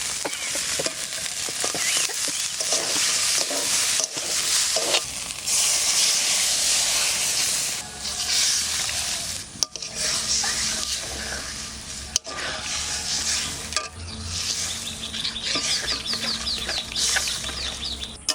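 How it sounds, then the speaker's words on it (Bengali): Ajay River prawns drop into spiced masala frying in a pan, and a loud steady sizzle and hiss carries on through repeated stirring clatter, with a few sharp knocks. "এবার মাছটা দিয়ে দিচ্ছি।"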